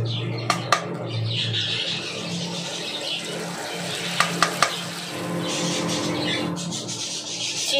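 Pointed gourd and green chillies frying in oil in a pan, stirred with a spatula: a steady close sizzle runs under repeated scraping strokes, with a few sharp clinks of the utensil against the pan.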